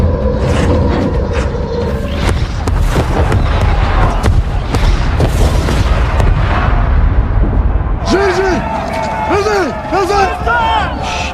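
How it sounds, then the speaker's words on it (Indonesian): Aerial bombs exploding in a war film set in Afghanistan: loud, close booming blasts and sharp bursts follow one another over a rumbling low roar, and tonal sounds rise and fall near the end. "Pasukan udara langsung menjatuhkan bom ke koordinat yang diberikan."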